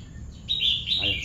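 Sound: birds chirping

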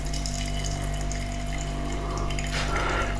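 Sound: pouring tea into a cup

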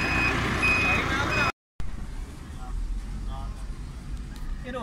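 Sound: tow truck reversing to take away a wrongly parked car

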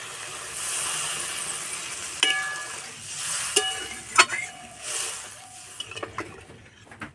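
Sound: water poured into fish-roe kofta curry pan

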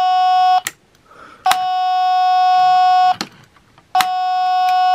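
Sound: buzzer of Tomica Town auto parking gate toy

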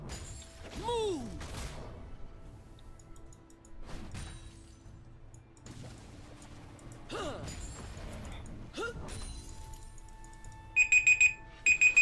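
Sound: timer alarm going off

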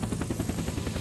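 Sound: helicopter flying in video game Unturned

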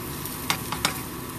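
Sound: wooden spatula stirring anchovies frying in pan

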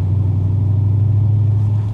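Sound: Audi S5 car driving on the road

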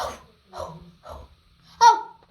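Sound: child imitating dog barking

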